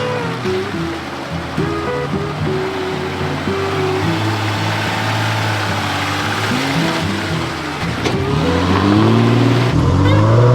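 A 40-year-old Land Cruiser in low-range tractor mode ploughs straight through a muddy bog hole on a high-country track, its engine droning and surging loudly while water and mud slosh and churn around it, rising toward the end.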